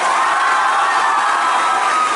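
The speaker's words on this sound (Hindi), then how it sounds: "एक बार जोर से ताली बजाओ।" A crowd at an event in Mithila, Bihar and Jharkhand, cheers and shouts loudly and steadily, with children's voices in the mix, for the whole short stretch.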